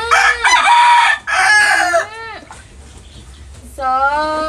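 A rooster crows, its drawn-out, wavering call rising and falling in a couple of bursts with short pauses between, near and loud.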